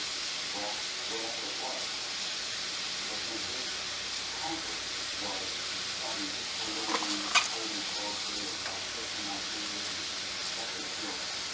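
Smothered cabbage cooking down in a pot for dinner, giving a steady close hiss and sizzle throughout with occasional stirring scrapes and a couple of soft knocks.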